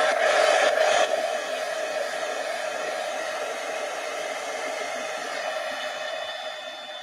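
A hair dryer blows steadily on liquid ink in an art journal, a continuous close airy roar that dips slightly after the first second and holds to the end, with no talking.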